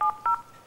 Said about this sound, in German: so, ich gebe mal die Nummer ein